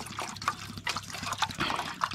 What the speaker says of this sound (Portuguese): Já vou jogar água na panela.